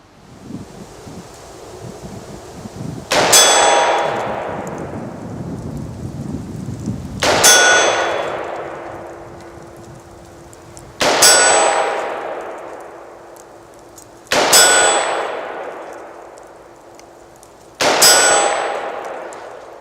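5.56mm FMJ bullets striking a steel target at 200 yards, outdoors: five loud, ringing metallic clangs a few seconds apart, each decaying slowly, over faint wind.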